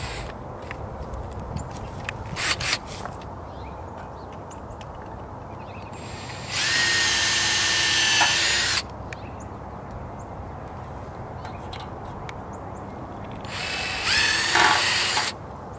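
Power drill boring holes for mailbox leg screws, two loud whirring bursts of a couple of seconds each over quieter outdoor background with brief clicks and handling noises between.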